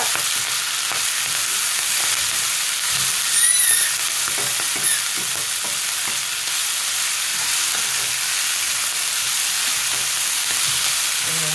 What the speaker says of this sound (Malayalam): നല്ലോണം ഇളക്കി യോജിപ്പിക്കുക